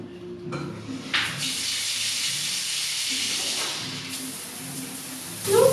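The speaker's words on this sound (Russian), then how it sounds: "Вот такой вот душ. Он очень гордится, что говорит, напор как из водопада должен быть." A high-pressure shower in Arugam Bay, Sri Lanka, sprays hard and steadily, a dense hissing rush of water close by, with brief shifts in the stream and a voice briefly at the end.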